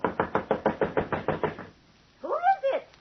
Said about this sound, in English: You knock like the very devil's behind you.